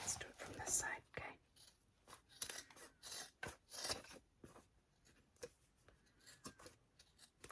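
Scissors snip around the edges of a cut piece, a series of short, close crisp cuts with soft whispery rustling and quiet speech-like murmurs in between.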